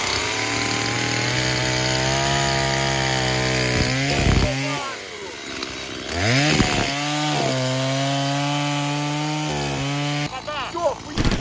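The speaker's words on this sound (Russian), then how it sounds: "Пилит пила шикарно." A chainsaw cutting ice revs and runs loudly, steady with several sharp bursts of higher-pitched acceleration, close by and continuous throughout.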